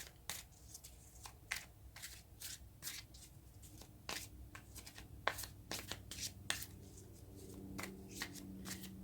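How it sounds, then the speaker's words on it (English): Tarot cards shuffled by hand in a quick, steady run of crisp riffling snaps and soft slides, close and fairly quiet, with no talking. "let's get some more cards here"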